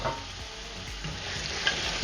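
Potato pieces fry with chicken in a pot for pulao, giving a constant close sizzle with soft stirring scrapes underneath and no voices.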